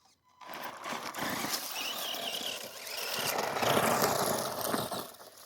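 Tamiya Striker RC car running on an old motor, a steady mechanical whir that holds for several seconds and swells slightly louder toward the end, moderately close with no talk.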